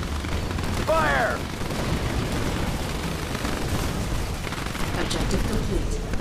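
Battle in the video game C&C 3 Tiberium Wars, with dense, continuous rumbling gunfire and artillery blasts under brief voiced unit commands.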